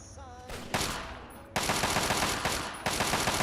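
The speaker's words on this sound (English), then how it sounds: "I can already hear gunfire." Rapid bursts of gunfire in the video game Fallout 3 crackle in quick succession, with a short pause before a second, longer volley; sharp, close, and continuous.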